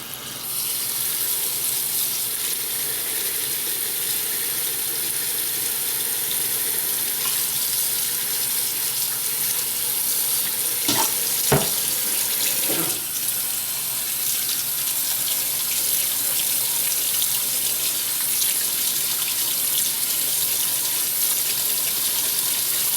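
Tap water runs steadily into a container to soak bread for bread pudding, a constant hiss-like gush that stays even throughout with a few brief clinks near the middle.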